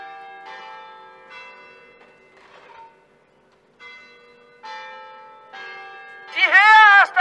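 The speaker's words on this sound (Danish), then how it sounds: "De rækker klokkerne for os." Church bells rung outdoors at a gathering in Copenhagen, separate clear tolling strikes with pauses between them, ending in a louder, quicker cluster of ringing.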